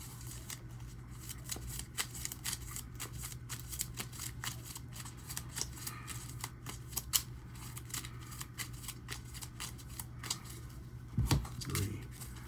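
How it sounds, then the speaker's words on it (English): Deck of Marvel Champions cards being shuffled, a quiet run of rapid riffling flicks and shuffles close by, continuing through the stretch with no talk. "Then we shuffle and continue drawing."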